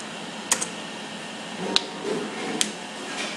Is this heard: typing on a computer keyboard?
yes